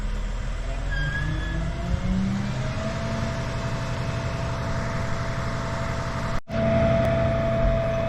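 A 2022 Yanmar VIO-55 mini excavator unloaded from a tilt deck trailer, its engine humming steadily nearby with a rising hydraulic whine that settles into a held tone, broken by one brief dropout.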